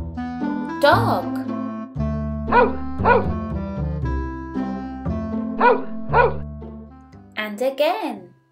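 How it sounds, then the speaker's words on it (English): Cartoon dog barking in a children's farm-animal lesson, several short bright barks and yips spaced through the clip over a light musical backing. "Dog."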